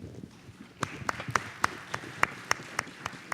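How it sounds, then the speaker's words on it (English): Scattered, quiet handclaps from a conference audience follow a financing panel at Submarine Networks World 2017, coming as sparse individual claps rather than a full ovation. "please join me with a big round of applause for what I thought was an excellent panel"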